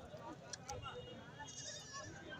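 Goat bleating on a livestock sale visit, wavering calls that rise and fall at close range amid constant chatter from people nearby.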